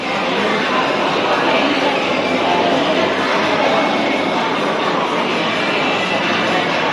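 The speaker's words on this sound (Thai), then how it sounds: "นี้ด้านนี้ก็จะมีรถไฟ วิ่งครับ" A train running past near a marathon bib pickup event in Korat, a steady, loud rumbling roar holding evenly throughout with no clear talk.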